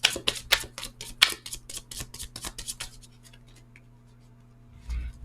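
Rapid riffling shuffle of a deck of cards from a cursing rebel-style oracle deck, a quick run of crisp flutters for about three seconds, then a few faint taps and a soft thump near the end.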